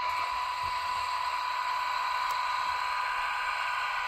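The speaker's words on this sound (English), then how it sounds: "We got some various air compressors." A steady, hissing hum of a model train's air compressor sound effect runs continuously, fairly loud and unchanging, with no voices.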